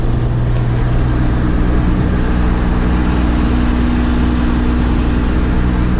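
A pickup truck engine drones low and steady at under 1,200 RPM while driving with the windows down, a continuous close rumble with constant road and wind noise and no talking.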